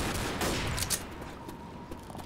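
Rapid gunfire from the Left 4 Dead video game, a dense burst of repeated shots that stays loud and continuous throughout, with no talking over it.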